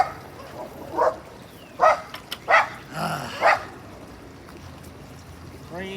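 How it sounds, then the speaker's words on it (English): Dogs barking outdoors near a waterfall, about five separate loud barks spaced roughly a second apart, with a faint trickle of water underneath. "Crazy dogs."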